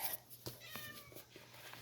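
Pet cat Cherry meowing softly indoors, one or two faint drawn-out mews over quiet room noise.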